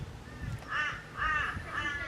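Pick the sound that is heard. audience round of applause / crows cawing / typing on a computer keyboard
crows cawing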